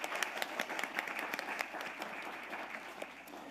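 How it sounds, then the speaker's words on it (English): An audience at a teen film festival applauds the festival committee with a soft, steady patter of many hands, several sharper individual claps standing out near the start, fairly distant and quiet throughout. "If we could give them a round of applause, please."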